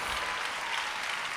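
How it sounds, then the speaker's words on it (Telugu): A church congregation at a Sunday service in Vijayawada claps together, a steady, dense burst of applause from many hands, moderately loud and continuous with no talk. "చప్పట్లు కొట్టండి గట్టిగా."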